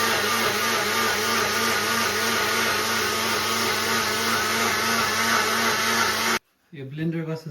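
A kitchen blender whirs at a steady high pitch for about six seconds, loud and close, then cuts off abruptly, and a person starts talking right after.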